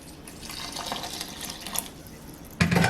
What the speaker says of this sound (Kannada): ಈಗ ನೆನೆಸಿರುವಂತಹ ಅದೇ ನೀರನ್ನ ಹಾಕ್ತೀನಿ.